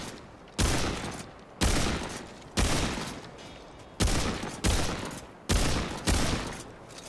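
Weapons fire at a shooting range in the video game Remnant 2, heard as seven loud, evenly spaced heavy blasts. Each booms up front and rings out before the next.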